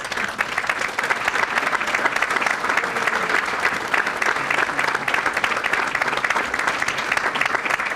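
Steady, loud applause from an audience at a chamber of commerce awards dinner as the chamber ambassadors stand, dense clapping sustained evenly throughout with no break.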